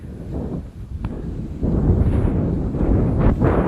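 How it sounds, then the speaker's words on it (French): Very strong wind buffets the microphone outdoors in Australia, a loud continuous low rumble that swells and gusts, growing heavier partway through, with sand blowing on a windy beach-like stretch. "Il y a un vent de zinzin."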